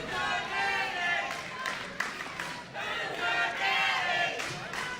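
A wrestling crowd at a New South Pro Wrestling show roars after a pile driver on the ring apron, a loud, sustained swell of cheers and shouts that rises and falls with no break.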